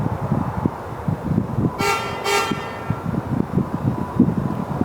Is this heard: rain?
no